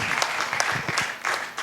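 A congregation at a Christian praise and worship gathering applauds for the Lord, with dense, close clapping sustained throughout.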